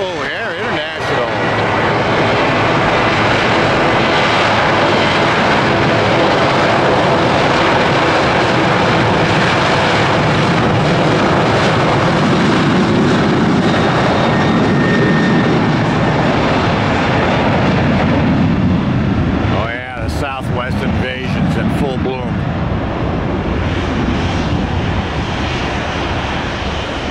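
Aircraft at Tampa International Airport, a loud continuous engine roar that holds steady close by for nearly the whole stretch, with a brief dip and a voice near the end.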